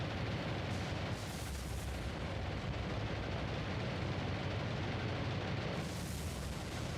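Heavy bomb explosions and gunfire strike warships, including a centerline cruiser and the burning Atlanta, in the War on the Sea naval combat game, a continuous loud roar of booming blasts and rumbling fire throughout with no speech.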